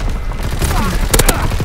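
A quick burst of gunfire from a Type 100 submachine gun in Call of Duty WWII, a few sharp cracks packed close together over a steady background of in-game noise.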